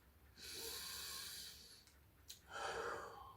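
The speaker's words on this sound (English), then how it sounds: "And it's breathing." Slow breaths during a meditation session, a long soft airy exhale followed after a short pause by another breath, close and quiet with no talking.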